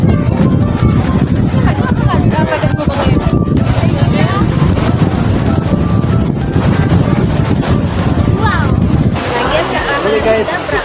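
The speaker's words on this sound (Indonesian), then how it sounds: "Lagi menikmati semilir angin sepoi-sepoi dan deburan ombak yang menghantam batu-batu karang." Sea breeze and waves breaking against coral rocks on the shore at Ujong Blang beach, a steady loud wash of wind and surf that fills the whole clip, with voices talking underneath.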